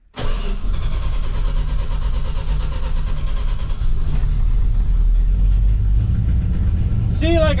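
A warm 1966 Dodge Monaco 500 with a 440 engine cranks and catches, then settles into a loud, rough, rumbling idle close by, with a brief higher whine near the end.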